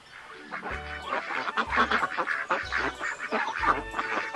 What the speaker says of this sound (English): A duckling popped out of Donald's tank at the first water stop.